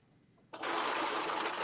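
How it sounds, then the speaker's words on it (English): A sewing machine starts up abruptly and runs steadily, a continuous close whirring buzz of fast stitching with no talking. "my sewing machine is not giving me any problems"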